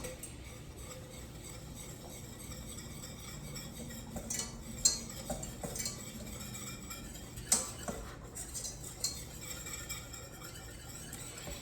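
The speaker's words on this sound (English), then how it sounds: "I'm gonna add 1/2 cup of flour and just whisk it." Flour is whisked into melted butter in a pot for a moussaka roux, producing soft continuous scraping and stirring with scattered light metallic clinks of the whisk against the pan, quiet and close.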